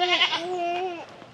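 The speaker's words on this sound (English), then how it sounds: "What does the goat say?" A goat in the Philippine jungle bleats once, close and loud, with a long wavering cry that trails off into quiet.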